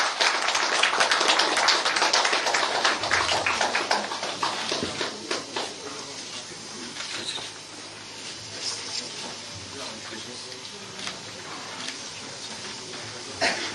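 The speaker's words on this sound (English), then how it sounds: "Let's give in a warm applause as this book is being released." An audience claps loudly and densely for a book release; the applause is strongest at the start and gradually thins into scattered claps.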